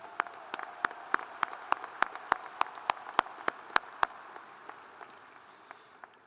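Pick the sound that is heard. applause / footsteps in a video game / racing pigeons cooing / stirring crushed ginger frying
applause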